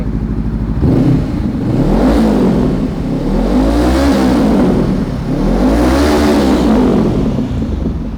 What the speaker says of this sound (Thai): เดี๋ยวมาฟังเสียงเครื่องยนต์กันครับ